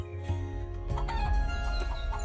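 An injured chicken clucks a few times nearby over a low background hum, the short calls rising and falling unevenly.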